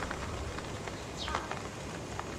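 Steady rain falling on a surface, a dense even hiss with scattered drop ticks, continuous and fairly loud.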